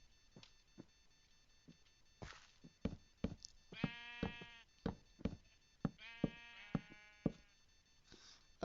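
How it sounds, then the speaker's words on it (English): Minecraft sheep bleating in a run of short wavering cries, mixed with sharp knocks and block-placing thumps, fairly close and no voices over it. "sheep!"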